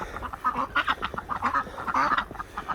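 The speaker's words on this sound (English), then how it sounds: "Good ducklings! Good ducklings!" Ducklings quacking on a snowy farm, a busy flock of close, overlapping quacks and peeps that keep coming in quick, uneven bursts without pause.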